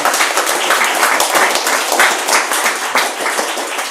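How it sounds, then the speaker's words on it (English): Audience applause at an on-stage conversation with an Ironman world champion, a steady, dense wash of clapping that holds evenly at full strength for the whole stretch, with no talking over it. "So I think, a round of applause for that"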